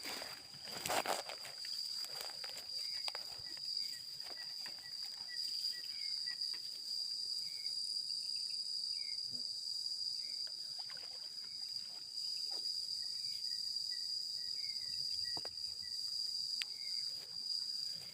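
Frogs call at night after days of heavy rain, short chirping croaks repeating in loose bursts over a dense steady drone of insects, with a few soft rustling steps.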